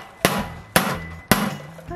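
A 5-pound weight striking a metal safe three times, sharp loud metallic bangs about half a second apart with ringing decay, close by.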